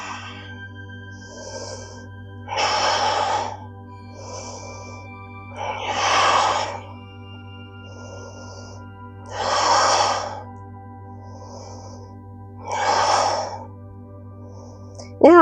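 Slow, deep breaths drawn and released in a steady rhythm while holding a yoga plank position, each breath loud and close, over a constant low hum with no talking.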